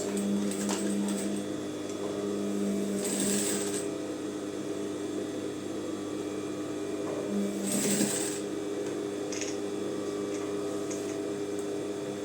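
A sewing machine stitches a trouser waistband in short runs of steady whirring, with brief bursts of faster stitching separated by pauses filled with low mechanical hum and fabric handling, close up.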